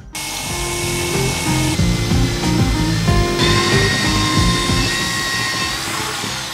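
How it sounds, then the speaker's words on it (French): A power drill bores a long series of holes while a workbench desk is built, whining loudly and close with repeated start-stop bursts and shifting pitch as each bit bites and releases, with no voices. "Donc maintenant, on s'attaque à faire les trous partout ici."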